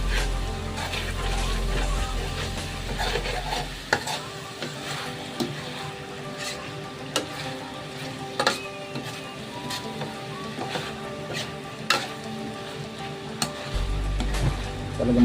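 Dried fish (tuyo) frying in a pan, a steady crackling sizzle with scattered pops and spatters, fairly quiet and close, with a low rumbling background at the start and end.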